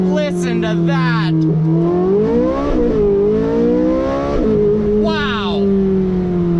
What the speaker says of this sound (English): one of the best sounding V8s of all time